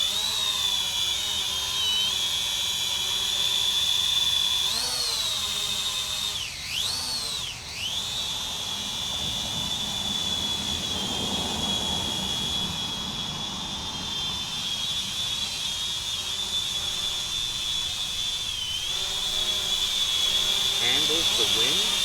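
Holy Stone HS290 FPV quadcopter drone flying outdoors, a steady high-pitched whine of spinning propellers that holds throughout with brief pitch swoops as it speeds and turns, fairly close.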